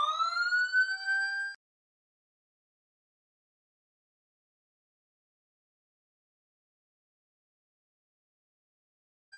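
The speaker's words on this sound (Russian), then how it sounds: "Красный автомобиль будет обязан уступить дорогу полицейским только если к световому сигналу добавится специальный звуковой сигнал." A police car's special audible siren gives a single brief rising wail of about a second and a half, then falls silent.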